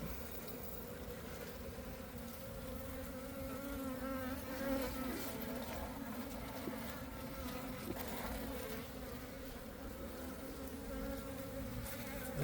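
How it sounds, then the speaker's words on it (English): Bees from a relocated beehive buzz densely and continuously close by, a steady swarm drone with no talk. "I'm gonna chase those bees out."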